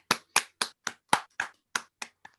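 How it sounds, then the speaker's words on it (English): A small group claps for readers and participants at an online fiction reading event, with about nine separate, fairly loud claps at a steady rhythm that thins out toward the end. "Can I also clap everybody for taking part?"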